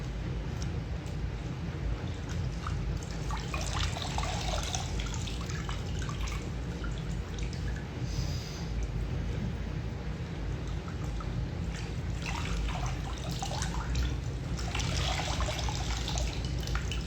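Water dripping and trickling steadily, a dense continuous wash of close splashing and running water that stays even throughout, with no voices.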